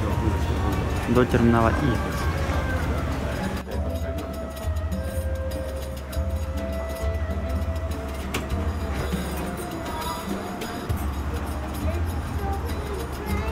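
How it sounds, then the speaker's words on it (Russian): A driverless tram-style train at a Doha airport terminal rumbles steadily with low hum and a brief rising squeal early on, while a voice talks over it. "Вот такие трамваи беспилотные."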